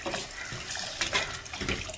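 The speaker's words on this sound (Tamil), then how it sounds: "இந்த தண்ணி ஊற்றிக்கிங்க." Water poured into a pot holding crab for a crab rasam soup, a steady close splashing and trickling stream with no one speaking.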